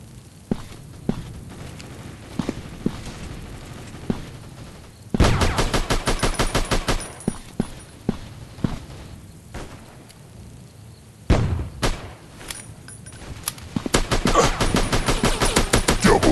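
Gunfire in a shooting video game: scattered single shots give way to bursts of rapid automatic fire in several loud volleys, with pauses of lighter shots between them and no talk.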